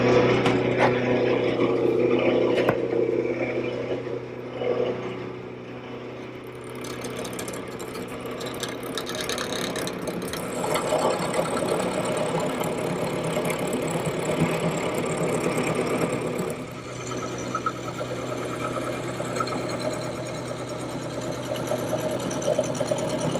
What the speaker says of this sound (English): The first thing that I want to do is rough out this blank, making it round, using a gouge.